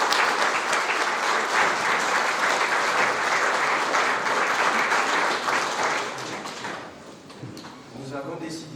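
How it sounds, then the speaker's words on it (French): Loud clapping from a crowd at a centenary celebration of the Armenians' arrival in Nice, a thick steady wash that fades after about seven seconds as a voice begins speaking. "Et j'aimerais que vous les applaudissiez,"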